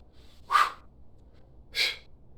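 Two sharp, breathy exhales about a second apart during a squat exercise workout, fairly close and alone with no talk, each a short forceful burst of air.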